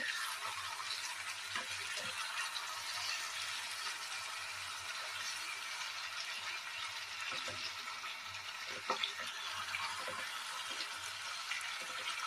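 Water poured into chicken curry that has been fried until the oil separates, a soft continuous hiss and sizzle with faint clinks, quiet and close.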